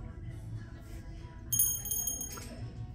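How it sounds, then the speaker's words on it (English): A small quail-shaped bell, a thrift store find, gives a few faint bright rings over a low background hum in a store. "Little quail bell"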